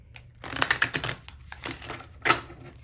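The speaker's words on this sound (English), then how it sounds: "One more shuffle." Tarot cards riffle and slap together in quick, light bursts, a soft close-up shuffling with short pauses between passes.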